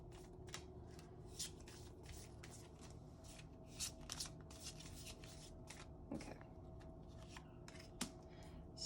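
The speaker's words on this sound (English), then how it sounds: "so I gotta shuffle them a little bit, and pull a card" Tarot cards are shuffled by hand in a quiet room, giving a run of soft, rapid flicking and sliding bursts at an uneven rhythm, with no voices.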